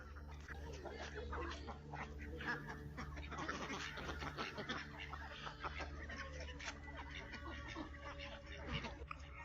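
Cartoon ducks quack and chatter while feeding on a wetland, their calls dense and continuous over a busy, steady background with another voice mixed in.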